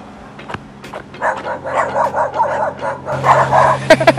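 A farm dog in Grenada yips and barks in quick, uneven bursts mixed with whimpering, fairly close and loud, with a steady low hum underneath.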